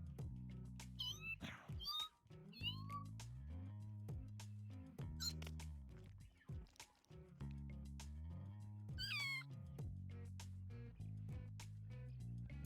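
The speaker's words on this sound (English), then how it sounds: "Play with the kitty cat." A cat in the No More Heroes video game meows repeatedly, with high squeaky mewing calls scattered over a steady, looping low game soundtrack, close and clear throughout.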